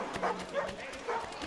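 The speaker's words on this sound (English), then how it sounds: "Dogs, more dogs." Dogs bark in the Assassin's Creed 3 video game in colonial Boston, with repeated yips and barks over a busy background of game ambience and faint voices.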